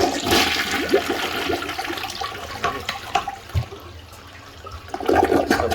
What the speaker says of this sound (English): I think one more flush ought to do it